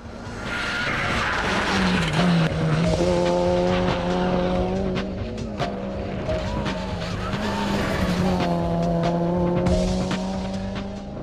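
Mitsubishi Lancer Evo 9 racing up a hillclimb course at Blagoevgrad, a loud engine revving hard through rising and falling gear changes, with tire squeal and gravelly crackle as the car passes close by.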